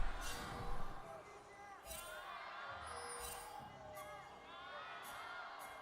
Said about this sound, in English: Crowds have got an opportunity to yell first up.